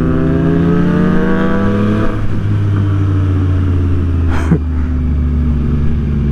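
A Ducati Superleggera V4 motorcycle engine at a racing day, its pitch sweeping up and down through revs in a loud, close, continuous drone with a short burst partway through.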